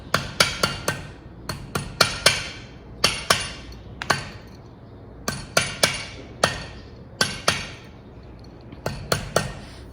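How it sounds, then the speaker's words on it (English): Hammer blows strike a handmade organic-shaped art piece, sharp metallic ringing hits landing in quick clusters of two to four with short pauses between, close and fairly loud, no talking. "I'm gonna get on here and keep hammering"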